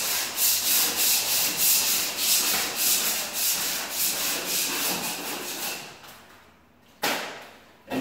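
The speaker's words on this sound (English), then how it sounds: "You got to use one of these nice blade scrapers, nice scrape, you know, be careful with it." Blade scraper rasping wallpaper glue off a wall in repeated quick strokes, loud and close, with a rhythmic scratchy pulse that slows and fades before a final sharp scrape.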